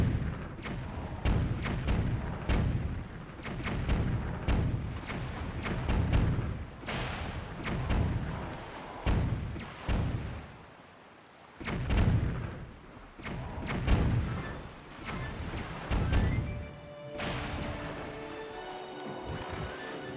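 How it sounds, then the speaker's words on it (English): Repeated bomb blasts in The Legend of Zelda: The Wind Waker, a string of heavy thuds and booms spread through the stretch at irregular intervals, fairly loud and close, with game effects layered between them and no voices. "It's a good thing I have so many bombs."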